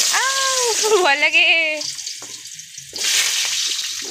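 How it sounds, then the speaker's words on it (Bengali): Potatoes dropped into hot oil in a home kitchen give a broad hissing sizzle. A voice talks over the start, and the frying noise swells again near the end. "তেল গরম হয়ে গেছে, আলু দিচ্ছে।"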